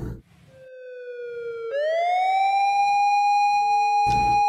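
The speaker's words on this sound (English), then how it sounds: "Whoop whoop! That's the sound of the police!" A police siren wails in the game Yandere Simulator, sliding in pitch, then rising and holding a sustained loud tone, with faint talk in the background.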